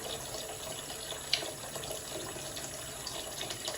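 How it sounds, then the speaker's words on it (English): Water runs from a tap into a drink cooler as a steady, faint, hissing splash, with no talking. "we're filling the drink cooler with water"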